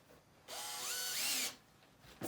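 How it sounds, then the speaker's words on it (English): A cordless power drill spins up and drives a screw into a wall-mounted stackable rack in a single one-second burst, its motor pitch rising under load before it stops, close and clear. "let me grab a drill"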